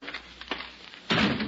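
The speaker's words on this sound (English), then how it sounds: "Close the door." A door pulled shut indoors amid a radio drama scene, giving a single loud, close thud with a brief rumble after a few softer background knocks.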